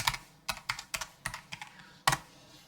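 Someone types a password on a computer keyboard, a quick run of about ten crisp, close key clicks in uneven rhythm.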